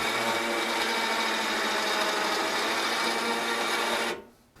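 A Micron PRO sawmill head motor whines steadily as the head rises half an inch above the cant, holding a loud, even mechanical drone that cuts off abruptly near the end.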